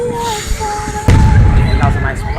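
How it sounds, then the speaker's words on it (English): A loud firework bursts nearby with a deep boom and crackling tail during a 4th of July display, with people talking in the background. "I love fireworks."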